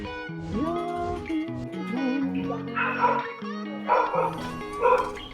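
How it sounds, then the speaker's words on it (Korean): A purebred Jindo dog kept in a PC bang barks three times at a moderate distance, under steady game music and electronic tones. "여기 어디 개가 짖노?"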